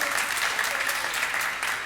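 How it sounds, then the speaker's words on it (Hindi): Audience clapping steadily at a practical workshop during a Daslakshan Parv religious gathering, a dense, even burst of applause from a room of people that keeps its loudness for the whole short stretch. "अब ताली बज गई, अब बुलाता हूँ।"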